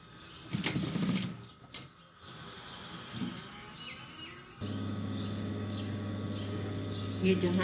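A sewing machine stitching a button loop for a kameez, running as a steady mechanical hum with a constant low drone after a pause, while someone talks at the start.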